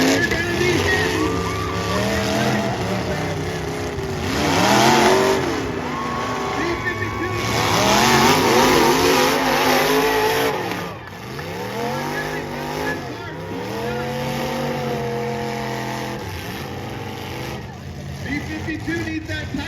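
Old junker cars at the Amador County destruction derby rev loudly, spin tires and smash together in a continuous roar of engines with skids and impacts, people shouting over it.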